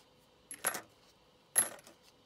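Metal bolts drop onto a digital weighing scale: two separate sharp metallic clatters about a second apart, close and clear against a quiet background.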